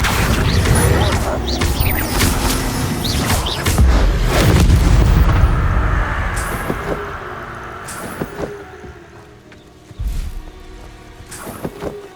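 A Bombarda blasting spell in Hogwarts Legacy detonates in a loud, deep explosion with rumbling debris and crashing impacts that fade out, followed by a smaller thud and scattered game effects.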